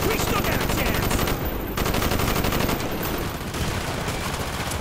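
Rapid, loud automatic gunfire from a Black Ops video game battle, a dense continuous burst of shots filling the whole stretch with only brief dips.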